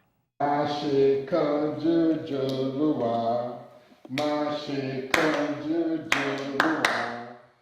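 Children clap along to a song with a United Nations art ambassador, sharp handclaps punctuating a clear singing voice nearby.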